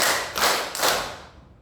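A classroom of people clap together in a counting clap game, three sharp ensemble claps in steady rhythm, the last fading slowly into the room.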